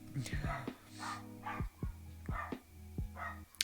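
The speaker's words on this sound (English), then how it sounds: "Dogs are so loud." Several dogs bark in quick, uneven bursts at moderate distance, sharp yips overlapping one another with short pauses between.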